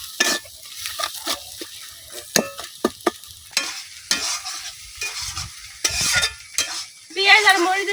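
Egg frying in a pan with onion and chili brings intermittent scraping and stirring strokes over a light sizzle, with irregular clatter of a utensil against the pan.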